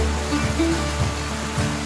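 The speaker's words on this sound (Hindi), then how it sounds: "एक आवाज़ दूर से सुनाई देती है, गिरने पानी की वो गरज जो दिल की धड़कनों से मेल खाती है" Kempty Falls waterfall near Mussoorie in the Uttarakhand hills, a dense, steady roar of falling water that stays loud and unbroken throughout.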